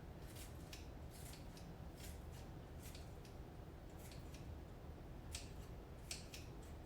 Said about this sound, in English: we're gonna cut about 3 tablespoons of chives in there